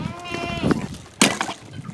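Goats bleat at a farm pen where ice is being broken for their drinking water. A wavering cry sounds near the start, then a sharp crack or thump, with faint voices in the background.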